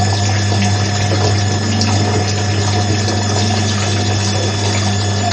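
Water rushing steadily through the pipes and panels while a solar water heater is being filled, a constant loud gushing flow with a low pump-like drone underneath, close and unbroken, with no voices.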